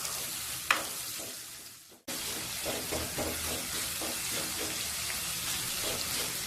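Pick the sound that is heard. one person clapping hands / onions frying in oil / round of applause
onions frying in oil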